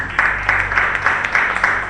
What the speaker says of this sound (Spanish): Démosle palmas y fuerte a Dios